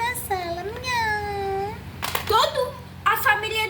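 A cat meows repeatedly, a long drawn-out wavering cry followed by shorter, sharper meows, close and fairly loud, with a voice in the background at times.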